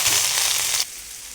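Grated pumpkin sautéing in ghee gives a brief, close, bright sizzling hiss for under a second before it drops to a softer crackle.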